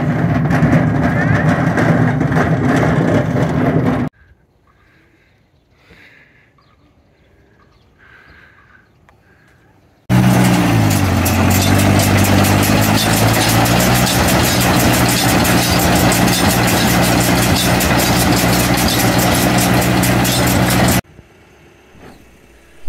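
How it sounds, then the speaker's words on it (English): A telehandler engine runs loud and close while the machine lifts a 300-pound steel engine block during a farm pumphouse rebuild. The steady heavy drone fills two long stretches, broken by a quieter gap. "I'm using the telehandler to reach in and pick up a 300-pound steel engine block"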